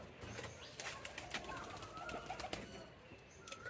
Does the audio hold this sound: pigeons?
yes